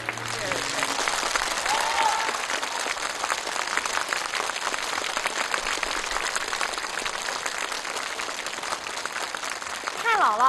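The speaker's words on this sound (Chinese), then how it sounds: "所以我觉得真的应该再给你们一次最热烈的掌声" A studio audience at a televised family comedy contest breaks into sustained, warm applause, a thick steady roar of clapping that holds for several seconds, with brief voices at the start and end.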